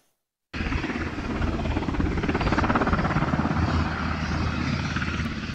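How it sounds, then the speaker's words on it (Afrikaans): Helicopters at a large military base, a loud close rotor thump and engine roar that starts abruptly and holds steady throughout, with no voices. "het helikopters by die ruim militêre basis van vroeg af gekom en gegaan"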